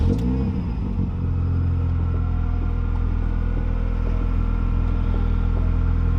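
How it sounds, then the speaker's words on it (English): A Mini car's engine turns over and catches, settling into a steady, loud, close-up idle rumble with a low, throbbing tone. "start the car"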